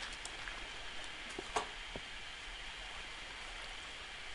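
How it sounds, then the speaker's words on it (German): Faint, steady rushing of flowing water in a Minecraft game world, a soft continuous wash with a few tiny clicks, no voices. "Hier höre ich Wasser."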